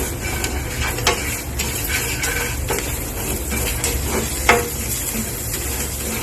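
Spices cook in a pan as hing is stirred in, giving a soft steady sizzle broken by a few scraping, clinking stirs of the spoon against the metal, close and fairly quiet, with no talking.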